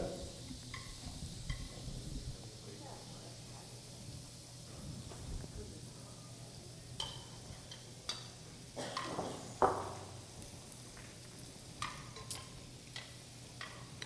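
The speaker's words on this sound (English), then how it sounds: "get your pasta in, get it melted, or get it heated up" Pasta stirred and heated in alfredo sauce in a pan gives a soft, low simmering sizzle with scattered scrapes and taps of a utensil, with a voice speaking over it at times.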